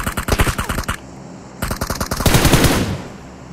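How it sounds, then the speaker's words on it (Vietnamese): Rapid automatic gunfire from PUBG Mobile, loud close bursts of rattling shots, a pause, then another burst that blends into a dense crackling fusillade. "nghe em nghe tiếng súng rồi"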